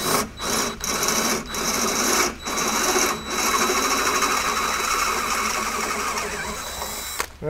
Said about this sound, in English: we're gonna just open them up and use a 1/4-inch drill bit.